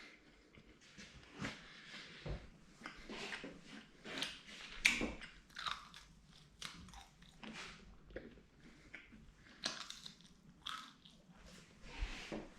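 Crunchy homemade beef jerky being chewed up close, a long run of irregular crisp bites and crunches with soft mouth sounds between them.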